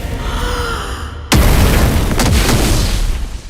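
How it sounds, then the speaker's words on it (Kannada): A sudden heavy explosion from a Kannada film teaser erupts after a quieter swelling stretch, followed by a booming rumble and a second blast, loud and close with no talk. "ಹೊರಗೂ ಕೂಡ ಬ್ಲಾಸ್ಟ್ ಆಗುತ್ತೆ, ಎಲ್ಲ ಕಡೆ ಬ್ಲಾಸ್ಟ್ ಆಗುತ್ತೆ."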